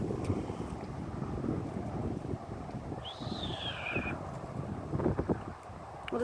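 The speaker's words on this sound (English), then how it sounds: "there goes the wind" Wind during a thunderstorm blows as a steady broad rushing roar buffeting the microphone outdoors, continuous and loud throughout, with a brief faint whistling tone partway through.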